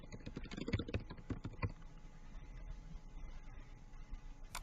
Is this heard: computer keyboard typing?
yes